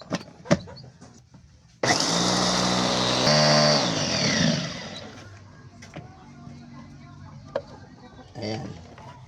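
An electric grinder motor spins up abruptly and runs loudly for a few seconds while grinding animal feed, then winds down, with someone talking briefly around it and scattered handling noises.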